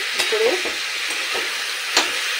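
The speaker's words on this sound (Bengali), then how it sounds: "এবার কষানোটা খুব ভালো হতে হবে।" Desi chicken curry being sautéed with spices in a pan for a Bengali-style thin chicken curry, a continuous sizzle with a few scraping spoon strokes, close and steady throughout.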